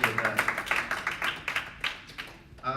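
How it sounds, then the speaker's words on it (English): Audience applause at a Senate special elections debate: a few seconds of steady, moderately close clapping from a modest crowd, thinning toward the end as a voice starts. "give yourself a round of applause for coming out this evening"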